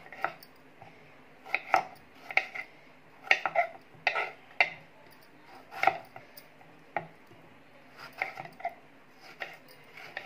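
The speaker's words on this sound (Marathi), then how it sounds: "2 टोमॅटो मी त्यात कापून टाकणार आहे" Tomatoes being chopped on a board, about a dozen sharp knife strikes in uneven bursts, close by with no voices.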